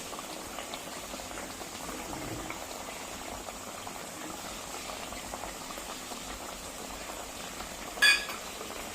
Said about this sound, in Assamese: ইয়াৰ ওপৰত মই কাঢ়ি ৰখা এই তেলখিনি দি দিছোঁ ইয়াতে